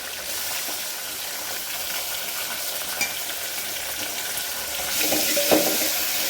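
Chopped tomatoes with coriander and curry leaves sizzle in hot oil with reddened garlic, the tempering for a thin moong dal, a steady close frying hiss broken by stirring scrapes and a brief louder flare near the end.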